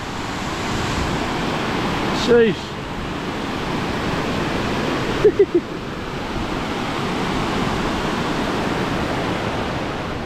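A waterfall in Granite Gorge on the Atherton Tablelands roars as a steady, loud rushing wash of water, continuous throughout with wind buffeting the microphone and a brief spoken exclamation.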